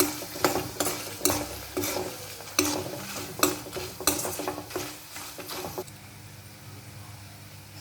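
Fried poha flakes for chivda are tossed and stirred with salt in a pan, giving a dry, crisp rustling with repeated scraping strokes of a spoon against metal, close and fairly quiet, fading to near silence at the end.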